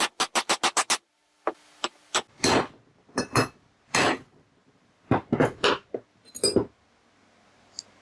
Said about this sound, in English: I'm actually going to set that brass hammer right up against the end of the crankshaft and tap on it